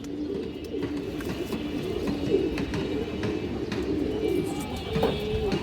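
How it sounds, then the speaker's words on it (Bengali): Road Master pigeons, white birds with purple-toned feet, coo in a crowded loft, soft low burbling calls recurring every second or so against a steady murmur of flock noise and faint rustling. "এগুলো রোড মাস্টার রোডের কবুতর।"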